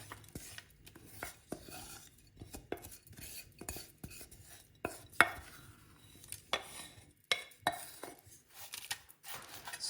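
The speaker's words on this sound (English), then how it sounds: "place the whole mixture into the tray" Homemade granola mixture scraped and spread into a baking tray: quiet, irregular clinks and scrapes of a utensil against the tray, spaced unevenly and heard alone without talk.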